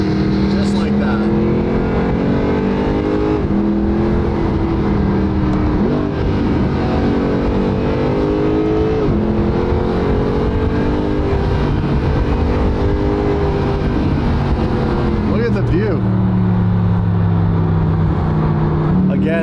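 A Mercedes SLS Black Series driven smoothly through corners at the speed limit, its engine note steady and close, rising and falling gently with light throttle across the whole stretch.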